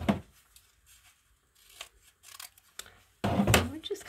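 Scissors snip and trim paper for a junk-mail collage journal, a few short cuts spaced apart with a louder burst of cutting near the end, close and fairly quiet.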